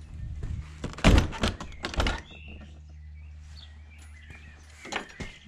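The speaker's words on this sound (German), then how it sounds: "Machen wir da die Tür zu." A farm barn door being shut produces two heavy wooden thunks in quick succession, followed by quieter rattling and faint bird chirps in the background.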